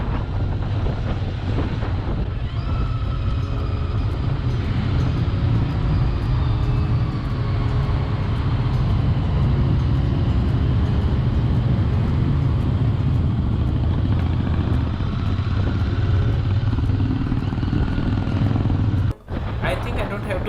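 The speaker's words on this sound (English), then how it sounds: "riding 650cc bike with some cool riders" Royal Enfield 650cc motorcycles cruise along countryside roads, a steady droning engine rumble mixed with heavy wind buffeting on the microphone, continuous and fairly loud throughout, with speech likely under the noise.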